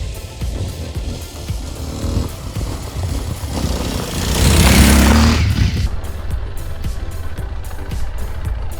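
A Kawasaki KLX230 motorcycle labours up a steep hill in first gear, a rough, steady engine drone that swells louder midway with a surge of wind and rumble, then settles back, close and continuous.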